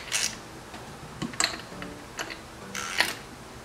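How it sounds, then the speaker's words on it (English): A ratchet snugs an iridium spark plug into a YZ250 two-stroke engine, with a few quiet, close clicking strokes spaced out in short bursts. "I'm just going to snug this up here with a ratchet."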